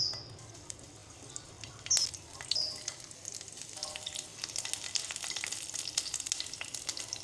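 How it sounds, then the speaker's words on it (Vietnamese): Shallots and garlic fry in oil in a small pan on the stove for a braised pork trotter dish, a steady close crackle and sizzle with sharper pops, getting busier toward the end, with no talk. "Mình sẽ chiên vàng hành với tỏi."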